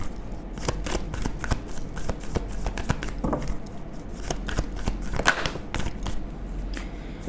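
A deck of tarot cards is shuffled and drawn by hand, a fast run of crisp riffling snaps and papery flicks, close and fairly quiet over a low background hum, without speech.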